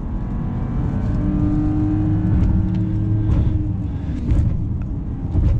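A 2021 Mercedes GLE 450 accelerating, heard from inside the cabin as a steady rising engine hum with a faint whine climbing in pitch and a few light bumps, moderately loud with no talking.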